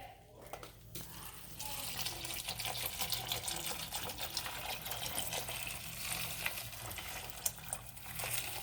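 Water trickles and splashes into a container of dirt, a quiet steady pouring hiss with faint bubbling that runs continuously after a brief pause.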